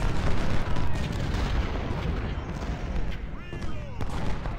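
Artillery fire from a Civil War battle at Antietam in the Ultimate General: Civil War strategy game, with dense rumbling cannon and gunfire booms rolling continuously at a steady loud level throughout, without a break.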